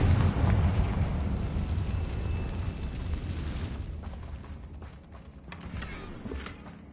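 Confringo blasting spell explosion in Hogwarts Legacy, a loud rumbling boom that slowly fades into scattered creaks and crackling debris.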